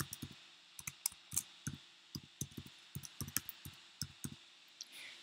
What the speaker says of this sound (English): I'll just type this out